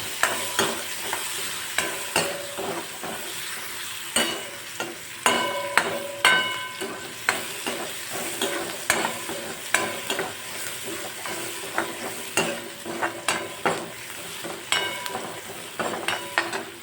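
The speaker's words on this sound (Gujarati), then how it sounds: "હવે ડુંગળીને આપણે ગોલ્ડન બ્રાઉન સુધી સાંતળી લઈશું" Onions sizzle steadily in a hot pan while a utensil stirs and scrapes them in repeated, fairly regular strokes with occasional metallic clinks.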